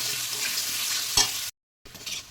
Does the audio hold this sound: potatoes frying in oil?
yes